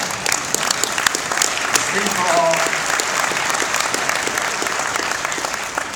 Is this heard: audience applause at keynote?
yes